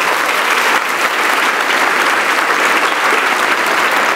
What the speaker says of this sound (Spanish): Le das un aplauso a la palabra de Dios.